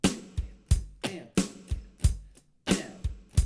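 Acoustic guitar strumming an accented pattern with muted strings at 90 beats per minute, giving percussive chunky down-up strokes with sharp damped accents in a steady rhythm, close and clear with no talking.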